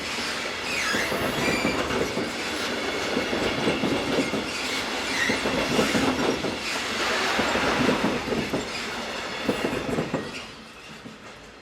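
Swiss Re 6/6 Class 620 electric locomotive running a single-track rural line toward Payerne, passing close with loud, sustained rolling wheels, rail clatter and squeal, no talk.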